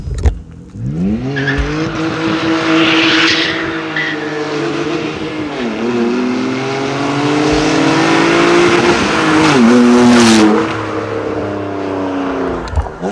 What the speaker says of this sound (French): vous avez apprécié ces accélérations, le son moteur incroyable